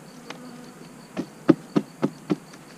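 Honey bees buzz faintly in the background while a series of five sharp knocks sounds close by, spaced about a quarter second apart.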